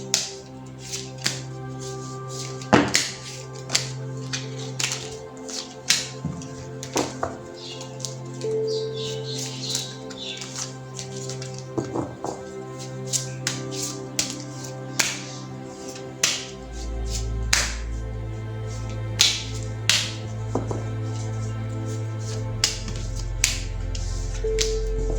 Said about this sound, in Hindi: पहले ज़रा मैं कार्ड्स को शफल कर लेती हूँ।